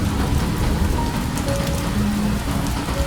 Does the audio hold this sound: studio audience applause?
no